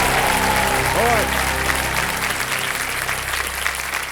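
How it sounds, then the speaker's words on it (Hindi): The studio audience of the Kaun Banega Crorepati quiz show bursts into loud, continuous applause, with a brief rising vocal cry near the start before the clapping gradually softens. "जोरदार तालियां बजती रहे"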